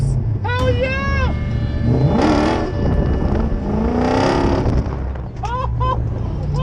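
A V8-powered Mazda drift truck drifts at a drift event, its engine revving loudly with rising and falling pitch, while excited voices shout close by over the engine.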